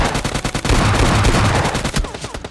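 Automatic gunfire in a battle royale video game rings out as loud, rapid, closely spaced bursts of shots with no talking.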